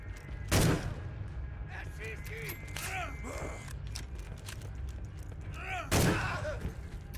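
Gunfire in the WW1 survival horror game Conscript, two sharp, loud shots about five seconds apart standing out over a low game ambience, with a voice talking briefly between them.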